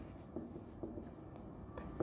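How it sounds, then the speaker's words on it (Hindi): Chalk or a marker scratches across a board during a physics lesson on cells in series and parallel, a few short, faint strokes spaced irregularly over quiet room noise. "मैं यहीं वही लिख देता हूं"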